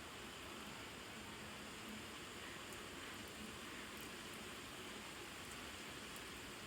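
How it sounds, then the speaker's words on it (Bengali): Rain falls in a garden with fruit trees, a steady, even wash of drops that stays constant and fairly distant, with no voices. "তোমাদের সাথে কথা বলতে বলতে আবার বৃষ্টি চলে আসলো।"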